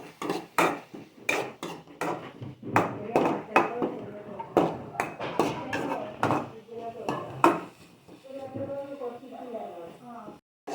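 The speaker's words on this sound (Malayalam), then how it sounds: "അപ്പം നമ്മൾ നല്ലപോലെ ഇളക്കി കൊടുക്കാം" A spoon stirs a turmeric-seasoned green bean thoran in a pan, giving a string of sharp clacks and scrapes close by, mixed with ongoing talk.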